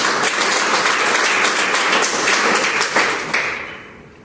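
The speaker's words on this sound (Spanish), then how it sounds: "Regálenle una fuerte ofrenda de aplausos al Señor." Congregation applause at a church Bible-month service, a dense, steady wash of many hands clapping that holds loudly for about three seconds, then thins and fades out at the end.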